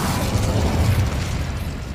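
The Incendio fire spell cast in a Hogwarts video game while fighting giant spiders: a loud, dense roaring burst of flame and rumble, sustained for about two seconds and slightly fading at the end.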